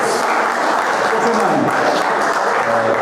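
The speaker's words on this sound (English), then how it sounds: "Another clap for the glamorous tea lady." Steady, dense audience applause for a tea lady at a woodturners' seminar in Dublin, continuous clapping from a crowd filling the whole moment, with some voices mixed in.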